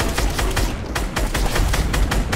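Rapid bursts of gunfire in the Fortnite video game, repeated shots crackling in a steady rhythm, loud and close with no talk over them.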